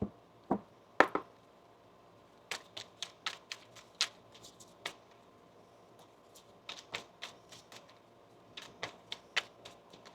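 Tarot cards are shuffled by hand, a scatter of sharp, close riffling snaps and taps in uneven clusters with quiet pauses between, faint and intimate.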